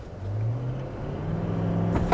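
A 2021 Toyota Landcruiser 200 Series with a V8 turbo diesel and GVM upgrade holds a low, steady engine drone close by as it builds revs at launch, ending in a brief rising surge.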